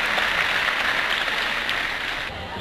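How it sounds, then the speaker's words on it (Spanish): A crowd at a volleyball event in Argentina claps loudly to bid farewell to the flags, producing a dense, continuous wash of applause that thins slightly near the end. "También con un fuerte aplauso despedimos a nuestras banderas"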